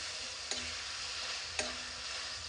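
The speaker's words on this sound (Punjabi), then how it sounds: "ਹੁਣ ਆਪਾਂ ਉਨੀ ਦੇਰ ਤੱਕ ਪਕਾਵਾਂਗੇ ਜਿੰਨੀ ਦੇਰ ਤੱਕ ਆਪਣੇ ਟਮਾਟਰ ਸੌਫਟ ਨਹੀਂ ਹੋ ਜਾਂਦੇ" Tomato masala for gobi kofta curry fries with a soft, steady sizzle. A spoon scrapes and taps the pan twice at a slow, even pace. The sound is close and quiet, with no voices.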